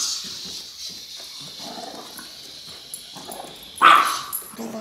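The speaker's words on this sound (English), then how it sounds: "that dog's loud" A guard dog barks a few times at close range, loud and abrupt, with a whining background tone and indistinct sounds in between.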